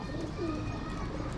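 A female Ferozpuri pigeon gives a soft, brief cooing call up close over a low background murmur.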